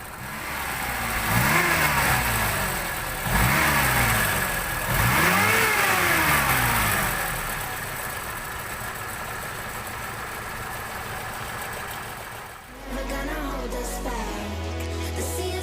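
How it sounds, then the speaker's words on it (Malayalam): A Premier Padmini car engine runs close by, revving in three rising and falling surges, then settling into a steady idle with a brief change in tone near the end. No one speaks. "ഇതിൻ്റെ എൻജിൻ ഐഡ്ലിംഗ് ഒന്ന് ശ്രദ്ധിച്ചാലോ."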